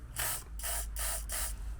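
Four short hissing bursts of sensor cleaner aerosol sprayed onto a probe in a Mazda MX-5 engine bay, in quick succession, close and fairly quiet, with brief pauses between them.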